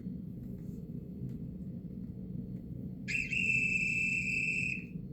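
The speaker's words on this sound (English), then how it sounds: "You can change it to different noises like referee." After a low steady hum, a shrill referee-whistle blast sounds from a Roku Voice Remote Pro's remote finder, held for about two seconds, loud and close.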